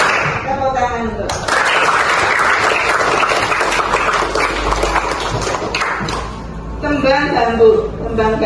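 A class claps together in a sustained burst of applause lasting several seconds during a Javanese-language lesson, with voices heard before and after it.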